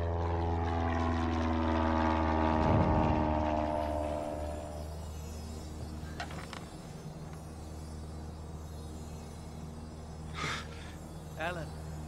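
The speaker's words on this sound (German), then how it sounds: "Nicht identifiziertes Flugzeug im Anflug auf Isla Sorna." Droning propeller aircraft engine from the Lego Jurassic World video game, an unidentified plane approaching Isla Sorna, its hum swelling and then fading under in-game German dialogue and game sound effects.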